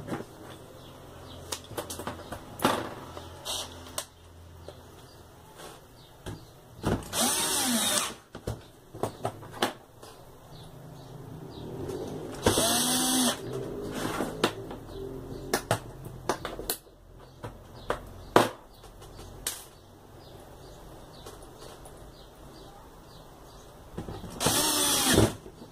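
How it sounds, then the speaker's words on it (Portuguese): Screws being driven into a PC power supply, a failed RS-350 unit that will not power on, by a small power driver: intermittent close whirring bursts and clicky tool noises with handling sounds in between. "Só tá parafusando agora."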